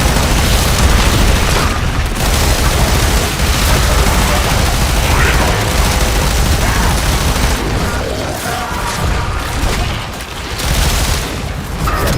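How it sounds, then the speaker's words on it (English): Grenade launcher blasts in Warframe boom in a dense, loud barrage of repeated explosions and rumbling bursts, near and almost continuous, with brief dips between volleys. "I love these grenade launchers."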